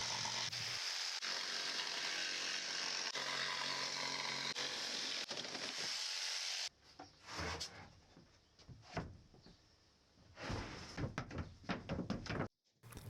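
A power saw rips through 12mm OSB cladding boards for a tiny workshop ceiling, giving a loud, continuous cutting roar for several seconds. It is followed by quieter, irregular knocks and handling of the boards.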